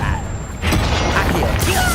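A spell explosion from the Confringo curse in the Hogwarts Legacy video game, a loud broad burst with rumbling mechanical debris that lingers, and a second surge near the end.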